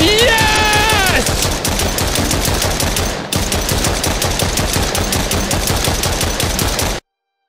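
Video game gunfire, a long unbroken stream of loud rapid automatic shots with a brief hitch midway, then an abrupt cutoff to silence.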